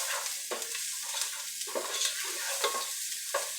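Onions, garlic and oregano sweating in a pan, giving a continuous sizzle with repeated stirring strokes that scrape and shuffle through the food every half second or so.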